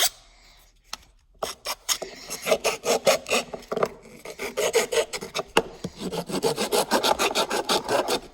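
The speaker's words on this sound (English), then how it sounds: "I'm gonna use the file right here and I'm gonna file down" Metal file rasping down a whittled wooden stick, with close, loud strokes that start sparse and then settle into quick, repeated back-and-forth scraping.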